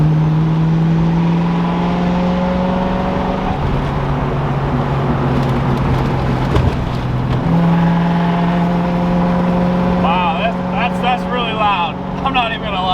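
A Ford Fox body with a new custom exhaust drones loudly from inside the cabin, its pitch stepping through gear changes as it accelerates, with a person talking over the engine near the end.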